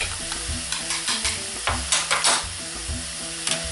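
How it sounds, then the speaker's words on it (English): Onions sizzling and frying in a pan, with a utensil stirring and scraping the pan in irregular strokes, close up. "With your onions frying away"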